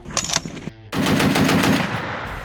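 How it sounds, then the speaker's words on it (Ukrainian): Browning heavy machine gun fires in Ukrainian service, a few sharp shots followed by a loud rapid sustained burst of automatic fire, close and alone without speech. "Це більш вдосконалений кулемет, чим у нас ДШК."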